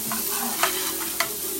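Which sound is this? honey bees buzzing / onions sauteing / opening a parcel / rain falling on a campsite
onions sauteing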